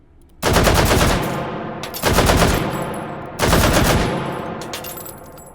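Automatic machine gun fire from a weapon with a 15-round magazine in the H3VR virtual reality shooting game, heard as three loud, rapid bursts separated by short pauses, with each burst's echo fading away.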